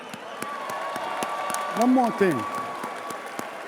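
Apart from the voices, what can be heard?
applause and hand clapping from fight fans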